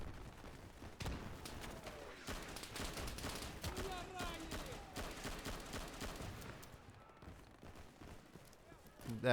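Gunfire crackles through the Stalingrad campaign of Easy Red 2 in rapid rattling bursts of rifle and machine-gun shots, fairly distant and uneven, with a louder shot at the very end.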